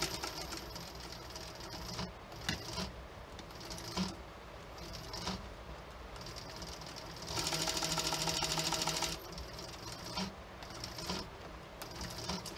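A sewing machine runs in short bursts with a longer stretch of fast rattling stitching in the middle, close and fairly quiet, separated by pauses of handling noise.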